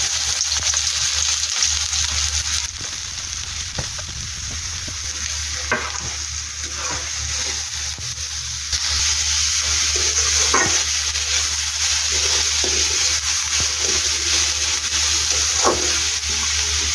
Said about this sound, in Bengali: পেঁয়াজটা একটু ভেজে